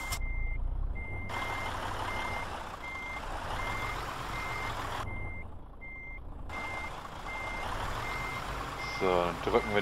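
Repeated reversing beeps from a truck backing up a trailer in the Euro Truck Simulator 2 video game, steady evenly spaced tones over a constant engine rumble, lasting the whole stretch.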